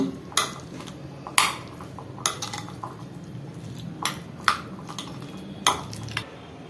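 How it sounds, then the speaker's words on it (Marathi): Corn sandwich filling mixed with salt and cheese in a bowl, a spoon knocking and clinking against the dish in sharp, irregular strokes, close and clear with no voices. "मिक्स करून घेऊया"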